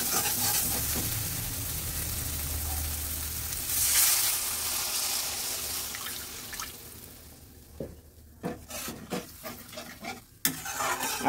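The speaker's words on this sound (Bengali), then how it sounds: "এবার দিয়ে দিচ্ছি জল।" Water is poured into fried spices in a hot pan for a tilapia fish curry, setting off a loud rushing hiss and sizzle that fades into quieter bubbling and a series of sharp spoon scrapes and clinks, close and alone.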